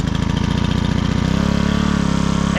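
Honda 1.5-inch water pump engine idling at a mining site, a loud, close, steady low chugging putter whose tone shifts slightly partway through.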